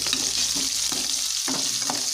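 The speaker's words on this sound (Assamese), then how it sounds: "পিঁয়াজখিনি অকণমান ব্ৰাউন হোৱালৈকে মই ভাজি ল'ম" Onions fry in oil with bay leaves and cardamom, a loud close crackling sizzle with rhythmic scraping strokes of a stirring utensil and no voices.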